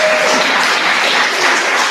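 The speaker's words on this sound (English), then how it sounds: "Please clap." A live audience at a bot conference applauds steadily, a dense, even wash of clapping that holds at constant loudness from start to end with no talk over it.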